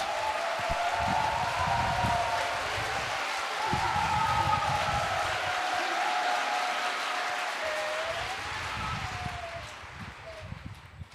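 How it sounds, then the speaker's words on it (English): A large audience at a religious leaders' gathering applauds to welcome a speaker, sustained loud clapping that stays dense for most of the stretch before thinning slightly near the end, with some crowd rustle mixed in. "Let's welcome him up with a big round of applause."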